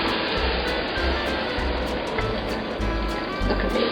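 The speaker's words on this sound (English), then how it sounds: "Now it's time to add in the stock to our minestrone soup." Organic vegetable stock pours steadily into a pot of minestrone soup, a continuous liquid splash close by with a faint rhythmic ticking behind it and no voices.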